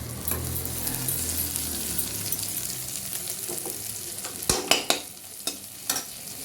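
Cumin and chili paste masala fries steadily in a pan, a continuous sizzle with stirring scrapes and a few sharp metallic clinks of the spatula near the end.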